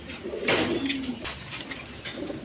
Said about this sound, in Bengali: এক পেয়ার হাই ফেলাইং গিরিবাস কবুতরের বাচ্চা কবুতর আছে